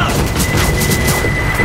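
Loud, close explosive rumble from a grenade blast in the video game Left 4 Dead 2, a sustained roaring boom with crashing debris filling the short moment, no voices over it.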